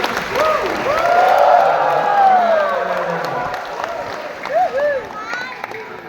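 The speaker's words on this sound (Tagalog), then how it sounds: "Bigyan niyo ang pinakamalakas na palakpak. Sumigaw kayo!" Church congregation at a Filipino country church's 26th anniversary service claps and cheers loudly and steadily, with whoops and shouted voices rising over the dense applause throughout.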